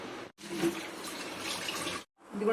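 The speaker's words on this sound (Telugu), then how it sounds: "ఇదిగోండి, పాకం ఉడుకుతుంది." Jaggery syrup for sweet pongal bubbles and simmers in a pot, giving a soft, steady, watery seething sound, close and fairly quiet, broken by two brief silences.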